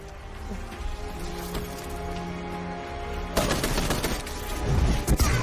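Gunfire in the Destiny video game, with dense crackling shots and a sudden louder, continuous burst of rapid fire in the second half over a steady hum and game tones.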